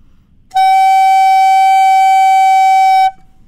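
A single long, steady woodwind note held for about two and a half seconds, loud and unwavering, with silence before and after.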